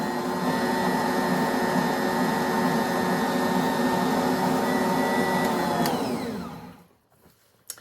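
Electric mixer running on low speed while mixing dough for oatmeal cream pie cookies, a steady whirring motor hum for several seconds that then winds down and stops.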